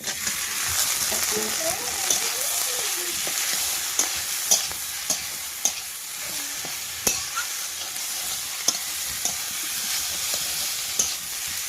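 Potatoes added to hot oil with fried dried lentil dumplings and spices sizzle steadily, while a spatula scrapes and taps the pan at regular intervals and a voice speaks briefly early on.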